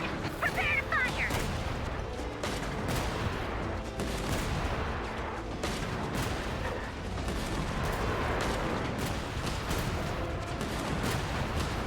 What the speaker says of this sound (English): Prepare to fire!